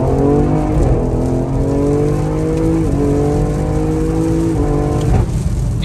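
A tuned 700-horsepower Ford Explorer ST accelerates hard, its engine loud and close, rising in pitch through the revs and dropping abruptly at several quick, aggressive gear shifts, with a brief tire chirp near the end.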